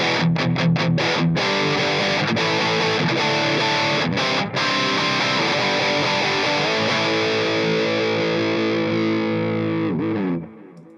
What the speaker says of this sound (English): pretty chunky humbuckers from here